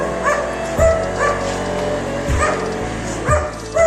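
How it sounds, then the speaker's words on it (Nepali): Four loud, evenly spaced barks from a nearby dog somewhere above ring out over a constant low background hum. "माथिबाट चाहिँ कुकुर भोकिरहेको छ"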